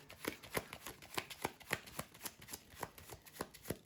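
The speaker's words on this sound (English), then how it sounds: "So I'm getting ready to shuffle everything." A deck of Marvel Champions cards is riffle-shuffled in quick, even, repeated bursts of crisp flicking, close up and quiet, with no talking.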